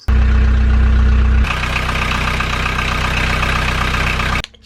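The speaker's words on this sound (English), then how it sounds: "just started the engine to the boat" A narrowboat's engine runs loud and close, a heavy low rumble settling into a steady, even idle for several seconds before cutting off abruptly.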